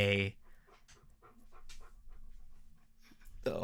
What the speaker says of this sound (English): our dog has something to say